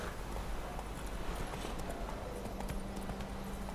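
Hooves clip-clopping steadily from a horse ridden at speed in the video game The Witcher 3, a continuous close rhythm over ambient game sound.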